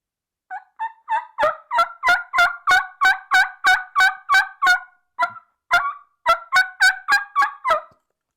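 Ridge Rocker Pro Series turkey call, a slate-style call, producing a run of about fourteen loud, close yelps in steady rhythm with one short pause, alone with no talking.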